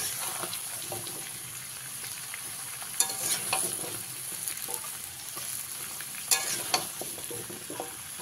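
Chopped pumpkin and pui greens stems are stirred in a hot pan, a spatula scraping and clattering in a few sharp knocks over a low, continuous sizzle, close by and without speech.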